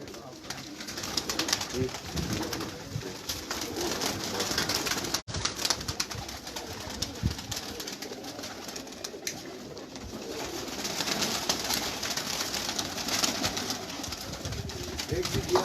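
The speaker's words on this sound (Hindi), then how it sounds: "नाद अली कबूतर दिखाना ज़रा कोई" Pigeons coo repeatedly on a rooftop in soft, low throaty calls amid outdoor background noise, with occasional faint voices nearby.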